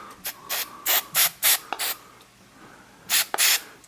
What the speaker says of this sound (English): pick up the frame, and give it a little bit of a spritz also